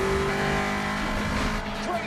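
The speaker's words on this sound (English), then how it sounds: "Brian pulls the e-brake, spins the car around, throws it in reverse" A film car chase where the driver yanks the e-brake and spins the car around, engine roaring loud and continuous with a tire squeal over dense mixed soundtrack, and a brief voice underneath.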